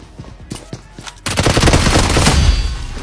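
Sustained automatic gunfire in the mobile shooter BGMI, a pre-fire aimed before the enemy appears: a few sharp isolated shots give way to a loud, dense continuous burst that fills the last half of the moment.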